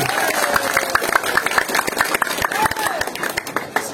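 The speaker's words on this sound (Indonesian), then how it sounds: "Tepuk tangan untuk Anies Baswedan." A village audience applauds Anies Baswedan at a cultural talk, a rapid patter of many hands clapping under a steady engine-like drone, with voices running through it.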